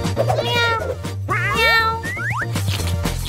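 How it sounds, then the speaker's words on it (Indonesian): A cat meows loudly several times, with rising and falling whiny cries close by over a steady low background hum, in a comedic Indonesian family skit. "Oke, Oscar, si kucing"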